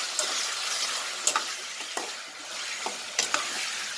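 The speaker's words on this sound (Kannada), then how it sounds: "ಸ್ವಲ್ಪ ಆಯಿಲಲ್ಲಿ ಫ್ರೈ ಮಾಡ್ಕೊಳ್ಳೋಣ" Chicken fries in a little oil with a steady close sizzle, punctuated by a few sharp crackles and spatter pops.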